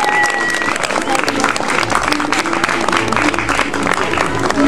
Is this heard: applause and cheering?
yes